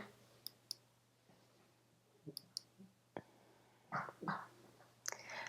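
Computer mouse clicks while working in Photoshop, sparse sharp clicks scattered in a quiet room with a faint hum, a few soft handling noises between them and no talking.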